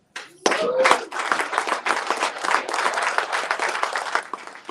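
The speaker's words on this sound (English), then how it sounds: "Thank you for clapping, but I did not become president of Uganda." An audience claps at a political gathering in Minnesota, dense hand-clapping that starts abruptly and carries on close and lively, with a few voices mixed in.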